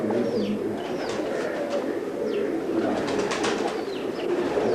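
Pigeons coo repeatedly in a Pakistani pigeon-keeping setting, low soft calls carrying on throughout over steady outdoor background noise, with a few higher bird chirps mixed in.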